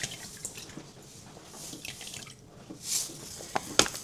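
Water trickling and dripping in a home kitchen while brine is prepared for homemade pickles, quiet scattered drips and splashes with a few sharper clinks near the end.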